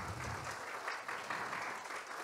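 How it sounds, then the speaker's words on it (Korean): An audience at an international forum on Korean traditional precision medicine gives warm applause, a continuous, even clatter of many hands throughout. "여러분 뜨거운 박수 부탁드리겠습니다"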